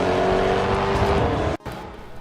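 A racing car engine in the video game GRID Autosport roars at high revs, loud and close, then cuts off abruptly before a quieter engine tone returns.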